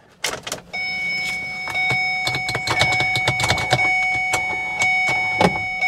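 Power window motor whirring in a salvage car whose window glass is missing, a steady tonal whine running for several seconds alongside repeated clicks and knocks close by.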